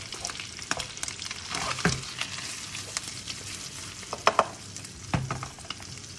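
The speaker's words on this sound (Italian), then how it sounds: "mescoliamo" Smoked salmon, tuna and onion fry in a pan while being stirred, giving a steady sizzle with scraping and clinks from the spoon at irregular moments.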